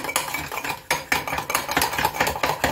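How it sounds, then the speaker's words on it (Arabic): A spoon clinks and scrapes around the inside of a cup in quick, uneven strokes, close up, stirring instant coffee into water. "3 معالق ميه دي هندوب فيها نسكافيه."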